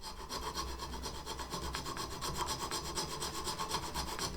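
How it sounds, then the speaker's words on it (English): A hand saw cuts through antler to enlarge a drilled hole while fitting a handle part for a twisted Damascus steel tanto, giving a steady, rhythmic rasping back-and-forth close up, with no voices. "then extend the hole with a saw"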